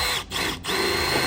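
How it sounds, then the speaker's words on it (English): A power drill whines close by while boring holes to mount a vehicle light bar, with two brief dips as the trigger eases before the motor spins up again. "just drilling some beautiful holes"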